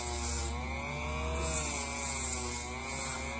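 A handheld Dremel rotary tool whines steadily with a high buzzing drone as it is used to distress clothing, its pitch wavering slightly and surging louder midway.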